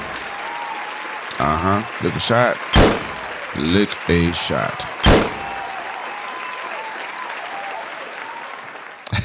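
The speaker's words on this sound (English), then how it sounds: "Another round of applause" Applause on a podcast show: someone talks loudly with sharp thumping bursts, then a continuous wash of clapping fills the second half at moderate level.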